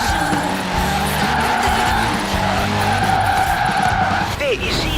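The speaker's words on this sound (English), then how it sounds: "People think drifting is simply losing control of the vehicle, when in fact, you are delicately balancing traction loss with grip." A car drifts in the racing game Forza Horizon 4, tires squealing in a loud sustained skid over a steady engine drone, the screech holding for several seconds before a brief pitch bend near the end, with a voice talking over it.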